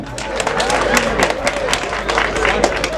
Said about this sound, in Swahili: pigeni makofi vijana